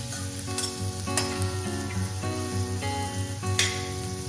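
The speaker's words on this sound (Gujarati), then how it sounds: "ઓનિયનને પણ આપણે બે થી ત્રણ મિનિટ માટે આ રીતે સાતરી લઈશું" Sliced onions sautéing in a pan for a few minutes while making a dhaba-style cashew garlic curry: a steady, close frying sizzle with occasional utensil scrapes and clinks, with no talking.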